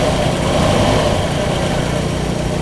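A 1960 Pontiac engine idles steadily while warming up outdoors on grass, a continuous, fairly loud low rumble with an even, smooth running note and no talking.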